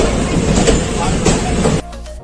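A crowded passenger train rolls out from Thiruvananthapuram Central, its dense, continuous rumble and rattle filling the clip before abruptly dropping away near the end.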